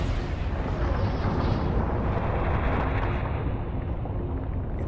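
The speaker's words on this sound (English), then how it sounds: "These were erupting geysers, shooting out material miles into space." Erupting geysers on Triton are rendered as a loud, continuous rumbling roar with dense low-end booming that stays steady from start to finish, with no talking.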